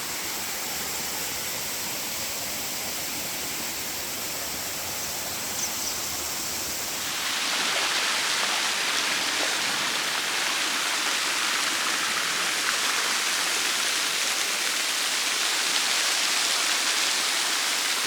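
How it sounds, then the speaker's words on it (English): The Turure Watersteps waterfall at Cumaca Falls in Trinidad roars as a steady, broadband rush of falling water that swells louder and brighter halfway through as it is approached. "on this side we have the actual waterfall"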